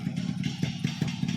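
A Yamaha RX motorcycle idles nearby with a low, even, slightly uneven putter and small clattering ticks, steady throughout and partly under a man's speech.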